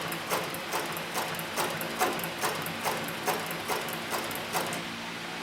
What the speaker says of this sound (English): you can see the stitching is very, very slow, very, very controlled